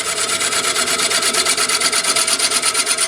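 A woodturning tool cuts spinning wood on a lathe while riding the bevel, giving a steady, close, hissing scrape that pulses rhythmically with each turn of the workpiece, loud and continuous with no talk.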